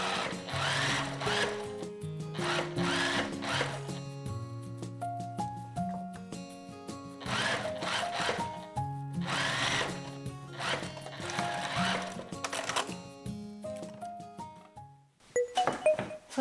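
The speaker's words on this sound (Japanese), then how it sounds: "これでぐるっと一周今縫ってきたので、ここから二重縫いを" A sewing machine double-stitches around a high-neck coat in repeated bursts of loud, close whirring, pausing briefly between runs and ending with a short final burst.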